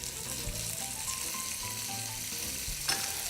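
A Hamakua mushroom steak is laid salt side down into a hot pan and sizzles: a steady, close frying crackle with a sharper burst near the end.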